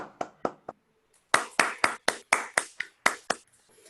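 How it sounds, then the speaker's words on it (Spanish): Scattered hand claps from a small group at an online panel session on uncertainty and the information crisis, a few sparse claps followed by a short run of distinct, evenly spaced claps, fairly quiet and with no talking. "Un aplauso."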